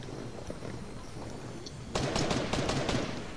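Rapid automatic gunfire from a video game erupts after a quieter stretch of background noise, a burst of sharp repeated shots that stays loud through the final second and a half, with no voices over it.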